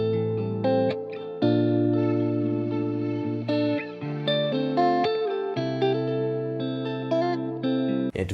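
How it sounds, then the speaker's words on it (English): Sustained electric guitar chords drenched in reverb and chorus-like effects, auto-panning from left to right, shifting through a slow R&B progression with a shimmering, spacious sound. "And finally a pan-o-matic, so it pans from the left to the right side."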